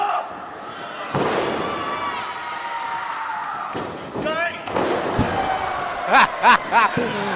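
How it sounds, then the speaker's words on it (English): Crowd at a wrestling match roars and cheers, with heavy thuds and slams from the ring punching through, while an excited commentator talks over the noise. "Just listen to this crowd"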